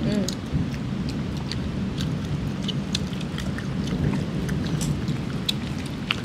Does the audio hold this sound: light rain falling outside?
yes